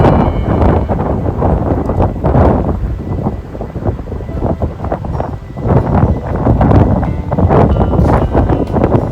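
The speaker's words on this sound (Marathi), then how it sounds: "इतका सुसाट असा वारा सुटला होता ना इथे, तुम्हाला इथे वाऱ्याचा आवाज ऐकायलाच येत असेल" Strong wind at a viewpoint above an expressway buffets the microphone in loud, continuous roaring gusts with no speech, rising and falling throughout.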